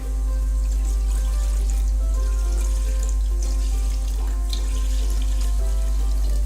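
A steady, loud rush of water runs from a tap into a pot, about four cups poured for boiling rice, with a constant splashing roar and a low hum underneath throughout.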